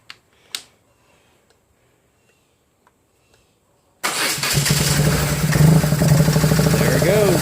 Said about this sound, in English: Let's hit the button and see what happens. Give it a little bit of throttle.